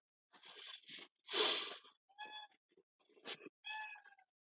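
A cat meows several times in a row, short close-up cries with brief pauses between them, no talking.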